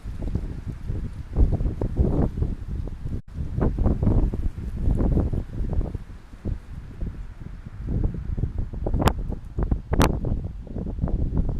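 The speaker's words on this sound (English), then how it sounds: "Another wind gust." Gusting wind buffets the microphone outdoors in low, rumbling bursts that swell and fade over several seconds, with a few sharp knocks near the end.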